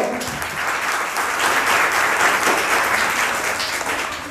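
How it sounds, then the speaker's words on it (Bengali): Steady applause from an audience at a college NSS foundation day yoga and Ayurveda event, many hands clapping together at an even level throughout. "তার জন্য একটা জোরদার হাততালি হবে।"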